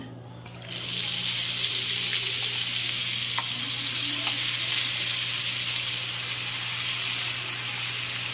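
Hot oil sizzling loudly and steadily as vada pav batter goes in to fry, a constant bright crackle after a brief quieter moment at the start, with a few small clinks.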